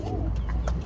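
A teddy pigeon gives a brief, soft coo close by against a low background hum.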